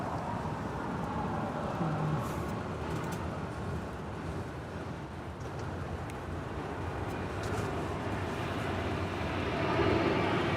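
A Boeing 787-9 Dreamliner bound for Tokyo Narita taxis at Los Angeles International Airport, its jet engines a steady, broad roar that swells slightly toward the end, heard alone without talk.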